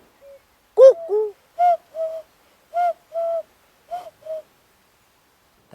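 A common cuckoo calls repeatedly outdoors, giving clear two-note hoots in a loose series over a quiet background, fairly loud and with no other voices.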